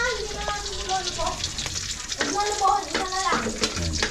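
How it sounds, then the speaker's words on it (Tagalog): Rice frying in a pan, a soft continuous sizzle with light stirring and scraping noises, close by, while people talk over it. "so magpiprito muna tayo ng kanin"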